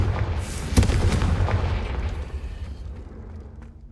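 A fire spell explodes in a Hogwarts Legacy game scene: one sharp booming burst up front, followed by a roaring, crackling rumble that slowly fades over a few seconds.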